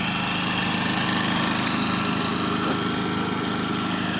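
Champion 3500 watt dual fuel generator running steadily, heard from the exhaust side: a loud, continuous, close engine drone with an even mechanical hum and no pauses.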